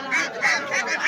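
Ducks at a busy rural market, several nasal honking quacks in quick succession, loud and close.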